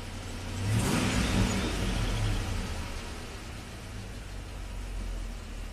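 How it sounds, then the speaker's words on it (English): A GM truck engine with a cylinder 6 misfire revs up sharply near the start, then settles to a steady, slightly elevated idle hum that carries on to the end, close and fairly loud, with no talking. "Raise the RPMs a little bit."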